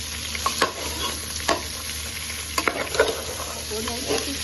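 Tender cooked mutton pieces being fried and turned in a pot: a steady sizzle under several sharp, close scraping strokes of the spoon, spaced unevenly, with no one talking.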